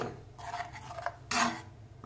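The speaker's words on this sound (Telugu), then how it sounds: "ఇదంతా బాగా మిక్స్ చేసుకుందామండి" Spoon scraping and stirring chickpea curry with yogurt in a cooking pot, a few soft rubbing strokes and clinks building to a louder scrape near the end, close by.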